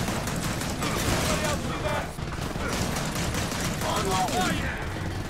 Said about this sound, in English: Oh, I'm shooting fast!